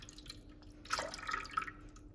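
Descaler liquid poured into the water tank of a Melitta bean-to-cup coffee machine, a short, faint trickle and splash of liquid lasting about a second.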